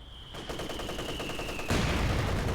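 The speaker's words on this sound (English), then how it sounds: "good mortar hit there" Mortar shells and heavy gunfire in Company of Heroes 2 battle: steady rapid crackle of shots with a high whine, then a loud broadband explosion blast near the end that keeps rumbling.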